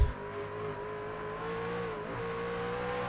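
A race car in an iRacing session at COTA accelerates with its rear end sliding loose, a steady sustained engine tone holding on one pitch with faint tire noise underneath, moderately loud and without talk.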